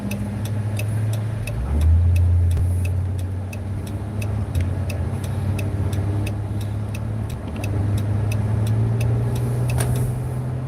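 A car keeps driving on a damaged tire that spins and slaps against the quarter panel, giving a rapid, steady ticking knock over a continuous low road and engine rumble throughout.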